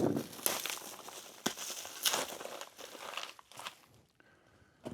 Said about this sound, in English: let's open up this box, see what's inside of it.